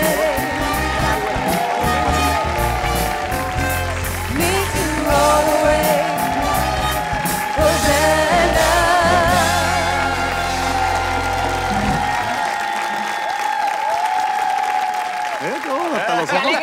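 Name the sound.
studio audience applauding and cheering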